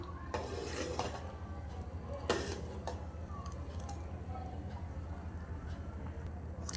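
A spoon stirs rice kheer seasoned with salt and turmeric in a pot, scraping and clinking against the metal in irregular taps over a low background hum.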